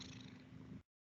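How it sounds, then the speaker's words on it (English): A house cat named Sophie purring close up, a steady low rumbling purr that stops abruptly after under a second. "Is Sophie meowing? Yeah, she's purring"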